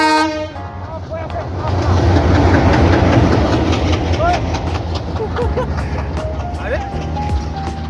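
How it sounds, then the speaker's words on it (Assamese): A very long train rumbles past close by in a village in Assam, its heavy low drone steady throughout, with a horn sounding and voices talking over the noise. "বহুত দীঘল ট্ৰেইন এখন আহি আছে, বহুত দীঘল"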